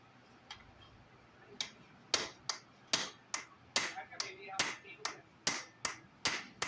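Repeated hammer strikes seating a gear on a Yamaha Mio scooter, sharp impacts arriving irregularly and growing more frequent, some in quick pairs, close by over a quiet background.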